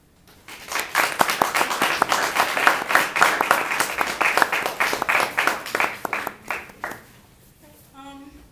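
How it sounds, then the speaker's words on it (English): An audience claps steadily for several seconds, a dense crowd sound that tapers off, followed by a brief voice at the end. "Another round of applause for him."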